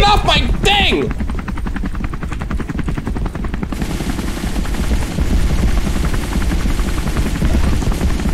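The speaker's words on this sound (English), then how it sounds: "Thanks, Mr. Real Santa in a helicopter!" A loud, steady helicopter rotor thrum in a Christmas horror video game fills the scene with rapid chopping pulses, briefly preceded by a voice at the start.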